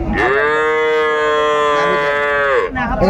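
A Sahiwal cow at a cattle market gives one long, loud, close moo that holds steady for over two seconds and then drops off.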